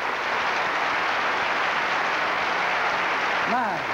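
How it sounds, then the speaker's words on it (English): A church congregation at a 1988 sanctuary dedication at Lakewood Church claps: a broad, steady roar of crowd clapping and cheering filling a large room, with a brief rising voice near the end. "give Jesus a hand clap."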